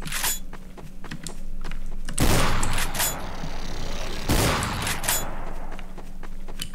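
Gunfire in Garry's Mod on a space map: two loud bursts of rapid shooting stand out over a steady background hum, separated by a quieter stretch, with no talk.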